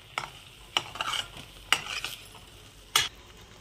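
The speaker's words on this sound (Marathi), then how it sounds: "आपण हे असं हलवून घेणार आहे मिश्रण" Spoon stirring a turmeric and garam masala mixture in a pan for lasuni methi, with four distinct scraping strokes at irregular intervals and a faint sizzle underneath, no talking.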